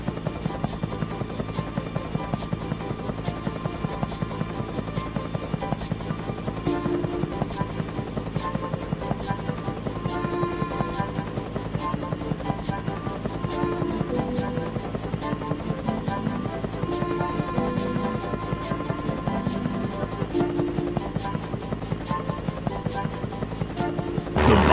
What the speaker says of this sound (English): Biplane could be trying to help you